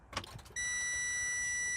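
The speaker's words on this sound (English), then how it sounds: "So when I turn the truck back on," A Freightliner Cascadia truck powering back on: a brief clatter of switching and movement, then a steady chime of dash warning tones sounds continuously, close and fairly loud.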